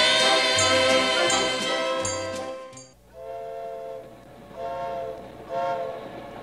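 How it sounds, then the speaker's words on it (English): A train hauling a refrigerated boxcar rolls along, its horn blaring in long harmonic blasts at first, then fading to a rumbling run with further horn calls, loud and with no voices over it. "a refrigerated boxcar is a splendid way to travel"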